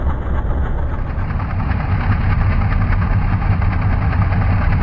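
In a PC flight simulator, an Antonov An-2 radial engine idles at about 1100 rpm with a steady, loud, throbbing rumble that holds evenly throughout and has no voices over it.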